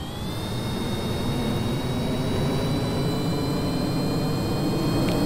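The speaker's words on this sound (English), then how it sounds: "So already these engines are sounding a lot more powerful than the other ones." Jet engines with afterburners at full throttle in the Kerbal Space Program game, a loud, steady roar with a high whine running unbroken throughout, with no talk.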